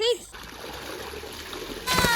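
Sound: child jumping into water, splash

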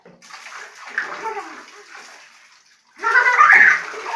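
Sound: water running from a bath tap

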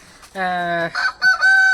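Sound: chicken clucking

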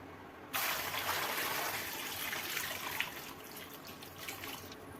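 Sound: washing gooseberries in salt water

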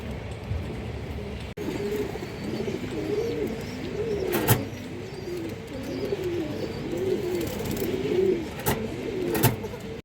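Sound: black-necked pigeons cooing

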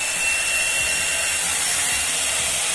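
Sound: Avon 3-in-1 hot air brush running on setting 3

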